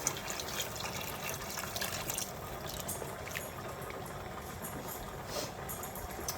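Chicken stock pours into a cooking pot for shrimp creole, a soft continuous liquid trickle and splash lasting several seconds, faint and close with no talking.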